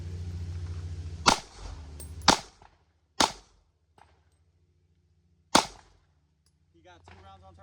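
Four sharp, loud pistol shots from a 9mm versus .40 S&W shooting match, spaced irregularly over several seconds, each a hard crack with a short ringing tail, preceded by a low hum and followed by quiet.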